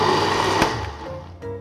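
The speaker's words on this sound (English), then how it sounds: "let's just cover this and blend this first" A countertop blender whirs loudly and close while blending celery for a vegan mushroom soup, its motor drone steady and then easing down in pitch with a short surge near the end, and no voices over it.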